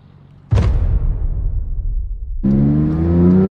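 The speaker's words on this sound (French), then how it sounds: "Ma première fois sur la route aux États-Unis dans une GT3." A Porsche 911 GT3 on an open road: a sharp onset leads into a sustained, loud engine roar, then a rising higher-pitched rev with strong harmonics near the end before it cuts off abruptly.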